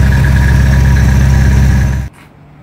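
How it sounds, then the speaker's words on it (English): A Nissan 240SX fitted with a new header and 3-inch catback exhaust idles loud and close, a steady, even low rumble for about two seconds before cutting off abruptly. "The car idles good."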